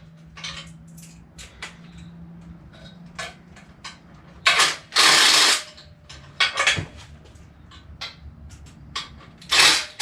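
Mechanical ratcheting and metallic tool clatter while intake manifold bolts are tightened on a 7.0 L 427 cubic inch LSX engine build, with several loud bursts of clicking between quieter handling noises, close up.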